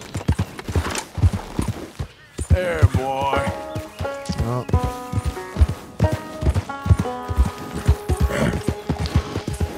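Horse hooves clip-clop in a steady walking rhythm in Red Dead Redemption 2, close and clear, with a brief whinny, while someone speaks a few calm words to the horse.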